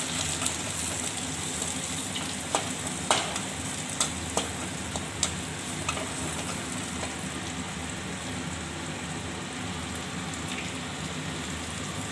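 Okra and a couple of handfuls of small shallots being sautéed in a pan for tamarind curry give a steady rain-like hiss, with a scatter of spatula taps and scrapes early on.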